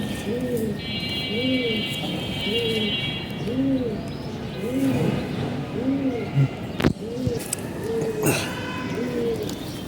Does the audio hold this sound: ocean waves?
no